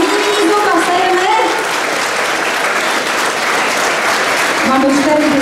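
Sustained applause from an audience at a Christmas dance musical in Kietrz, filling the room for the whole stretch, with a few children's voices and cheers rising through it.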